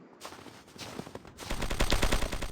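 Video game gunfire: scattered single shots at first, then a loud rapid burst of automatic fire with close, sharp, repeated reports.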